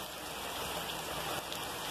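Steady, dense rain falls throughout, a continuous close hiss of drops on surfaces with no pauses or voices.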